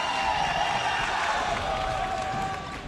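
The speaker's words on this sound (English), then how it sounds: "Crowd's getting into it. Come on, crowd!" Tournament crowd at a Super Smash Bros. Melee event, MLG Anaheim 2014, during a last-stock fifth game, a steady roar of cheering and noise filling the hall with no let-up, with commentary voices faintly in the mix.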